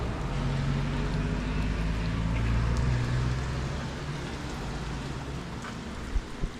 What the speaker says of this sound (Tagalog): Problema, umuulan. Hindi kami makadiretso, umuulan.